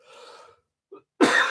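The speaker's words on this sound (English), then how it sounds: "As I cough." One abrupt, loud cough bursts out near the end from a person speaking to a microphone, following a stretch of soft breathy vocal sound and a short pause.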